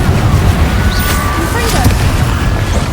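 An Incendio fire spell is cast in Hogwarts Legacy, producing a loud, dense roar of rumbling flame and crackling bursts that keeps going without pause for the whole stretch.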